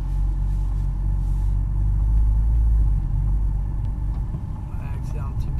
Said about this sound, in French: Accélère un petit peu, tu passes la 2 et tu restes bien à droite s'il te plaît.